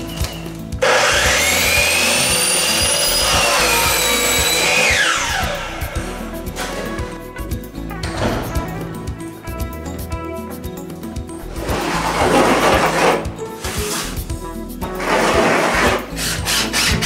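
Sawing through wood during a custom wine room cabinetry build, with a loud, steady power-saw whine and rasping cuts. The main cut runs for about six seconds, and shorter bursts of cutting follow, close up with no talk.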